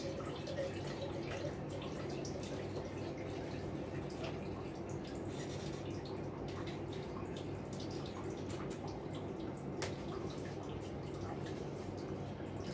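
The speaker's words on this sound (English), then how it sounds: "Fill this back up with a little bit of water." Water runs steadily into a container of peppers for fermentation, a continuous close trickle with light splashing and drips throughout.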